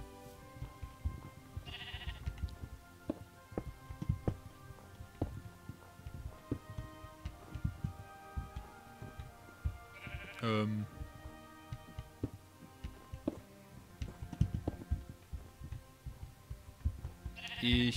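Sheep in the Minecraft video game bleat several times in short separate calls over busy in-game clatter and footsteps.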